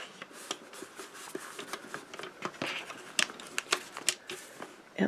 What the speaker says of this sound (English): I just use my small guillotine cutter to take that off